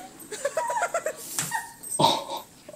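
A dog gives a quick series of high whimpers and yips, then a few sharper whining cries, close and moderately loud, with brief gaps between the bursts.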